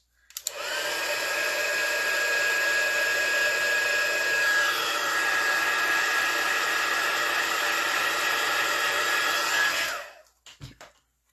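A hair dryer blows steadily to dry wet watercolor pencil on a handmade card. The dryer runs loud and close for about nine seconds as a constant whooshing roar, then cuts off, followed by a few faint clicks.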